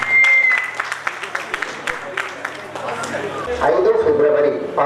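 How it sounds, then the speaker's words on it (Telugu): Applause breaks out to welcome a professor at a Rotary Club committee swearing-in ceremony, a short burst of clapping from the audience that fades under an amplified voice speaking over a public address system. "గట్టిగా చప్పట్లతోనే వెల్కమ్ చెప్తాను ప్రొఫెసర్ గారికి"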